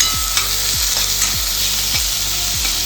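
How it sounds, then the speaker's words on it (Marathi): Chopped spring onion greens frying in hot oil in a pan for Korean fried rice, a loud continuous close sizzle with regular scraping stirs about every half second, and no talking. "तेल गरम झालं की त्याच्यामध्ये आपण ही जी आपण कांद्याची पात चिरून घेतली होती ती याच्यामध्ये टाकून द्यायची"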